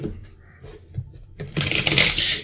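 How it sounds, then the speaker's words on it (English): Tarot cards are shuffled by hand, a soft crackling riffle that builds into a dense, fairly loud burst after a quieter stretch of faint handling sounds. "Shuffling for Kate."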